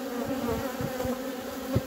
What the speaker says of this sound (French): Voilà, l'essaim est constitué.